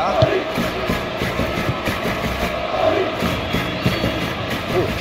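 Stadium crowd in PES 21 during a Real Madrid vs Valencia La Liga match: a continuous, broad roar of fans with swelling cheers that rise and fall, loud and steady throughout.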